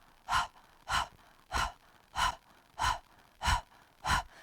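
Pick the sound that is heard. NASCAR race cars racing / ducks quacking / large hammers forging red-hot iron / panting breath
panting breath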